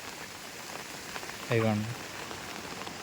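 Rain falls on a crop field as a rain-fed canal flows through it, making a steady, soft hiss throughout, with a brief spoken word partway through.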